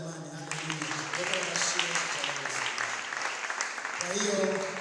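A church congregation claps in praise, a steady, dense round of applause heard throughout with voices and a speaker talking over it.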